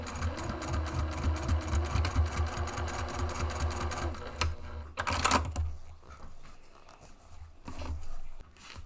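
A sewing machine top stitching a bag runs in fast, steady stitching bursts for about four seconds, then stops, leaving a few quieter clicks and handling noises.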